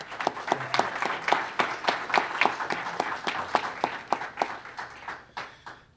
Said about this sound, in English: asking for another round of applause for our state elected officials